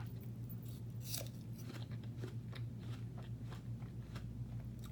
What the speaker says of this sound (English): I like the crunch of the sugar.